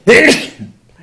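A single sharp sneeze, close and loud, during a school board meeting, followed by a brief quiet murmur.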